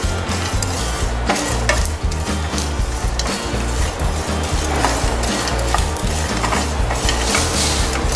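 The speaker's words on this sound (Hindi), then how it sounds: "धनिया को भी रोस्ट कर लेंगे।" Whole coriander seeds dry roasting in a pan on a gas stove, giving a steady dense rattle and faint sizzle with scraping stir strokes throughout, fairly loud and close, with no talk.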